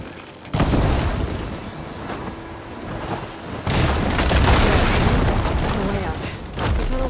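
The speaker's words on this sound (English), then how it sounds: "I should be able to blow this up to clear the debris. Hitting those blaze barrels with fire ammo should do the trick." Blaze barrels exploding after being hit with fire ammo in the Horizon Forbidden West video game: a sudden loud blast, then rumbling debris and a second heavy burst, all close and dense.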